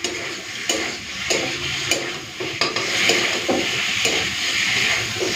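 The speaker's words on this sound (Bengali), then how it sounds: "পটলটাকে মশলার সাথে একটুখানি কষে নিই" Pointed gourd frying with spices in a pan, a constant close sizzle cut by regular scraping stirs of a spatula against the metal, roughly twice a second.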